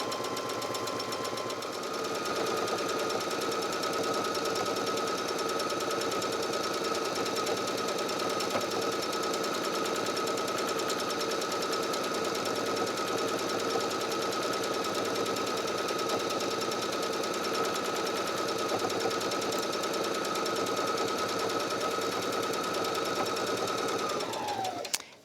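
A sewing machine runs steadily for about 25 seconds, top stitching all the way around the casing of a handmade makeup bag; a continuous, fairly loud mechanical whir with no talk, stopping abruptly at the end.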